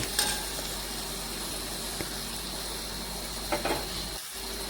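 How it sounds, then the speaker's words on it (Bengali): Potatoes frying in a pan with turmeric, salt and cumin-mustard paste give a constant soft sizzle, broken by a few brief clinks and scrapes of stirring. "বেশ কিছুক্ষণ সময় নিয়ে নাড়াচাড়া করে একটু আলুগুলো ভেজে নিচ্ছি হলুদ গুঁড়ো লবণ আর জিরে সরষে বাটা দিয়ে"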